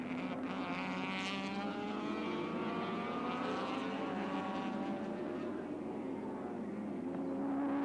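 Touring cars racing at Oran Park in 1983, including a red Mazda chasing the pack, with a loud, continuous engine roar whose pitch rises and falls as the cars pass nearby.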